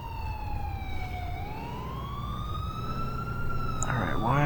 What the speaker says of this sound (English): why are you just sitting here with your siren on?